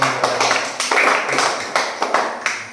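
Primary school pupils in a Hindi-medium maths classroom clap together in a loud, close burst. Sharp claps repeat in a quick, steady rhythm of about three per second, with no talking.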